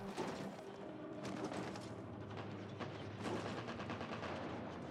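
Rapid gunfire crackles through a busy sci-fi action game scene in The Ascent, a dense steady wash of shots and mechanical clatter running throughout with no talking.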